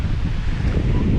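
Wind gusting across Spencer Park Beach on Hawaii's Big Island, a loud, continuous low rumble buffeting the microphone for a moment, with no other sounds standing out.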